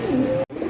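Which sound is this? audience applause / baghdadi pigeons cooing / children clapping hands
baghdadi pigeons cooing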